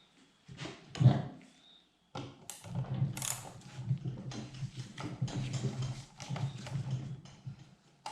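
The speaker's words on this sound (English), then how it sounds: "And the way to do that is by undoing these 1/4-inch nuts." A wrench works on 1/4-inch nuts and square-headed bolts of a 3AZ36 brake backing plate, giving close, quiet ratcheting clicks and metallic taps in an irregular rhythm after a brief clunk.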